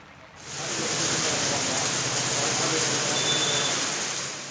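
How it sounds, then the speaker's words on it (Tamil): Heavy rain pours in Sivagiri, Tenkasi district, Tamil Nadu, as a dense, even hiss that starts abruptly and then holds steady and fairly loud, with no voices over it. "தென்காசி மாவட்டம் சிவகிரி பகுதியில் 4 மணி நேரத்திற்கும் மேலாக மழை பெய்தது"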